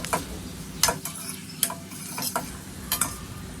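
Potato bhaji sautéing in oil over a low gas flame, a steady soft sizzle under repeated sharp spoon scrapes and clinks against the pan at an irregular rhythm, close and fairly loud, with no talking.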